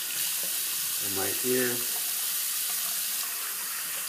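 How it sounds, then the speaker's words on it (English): Tap water runs steadily into a sink as hands are rinsed during a wet-shave routine, a continuous close hiss with someone speaking briefly over it. "I'll rinse my hands off here, get some of this stuff off my shirt, clean off my sideburns"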